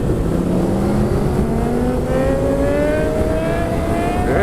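An Aprilia RSV4 motorcycle engine revs hard during a wheelie attempt, its loud close tone climbing steadily in pitch as the throttle opens, with no talking over it.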